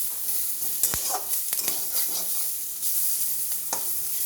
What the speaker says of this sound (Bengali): ডুমো ডুমো করে কেটে রাখা পেঁয়াজ এবং ক্যাপসিকাম ভেজে নেব।